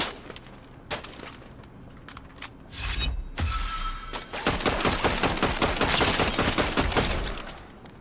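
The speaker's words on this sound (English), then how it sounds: "Someone's shooting at me." Video game gunfire aimed at the player: a few isolated shots early, then a loud, dense stretch of rapid automatic fire and shattering impacts lasting several seconds.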